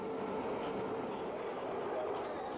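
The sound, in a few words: inside a moving Jakarta light rail train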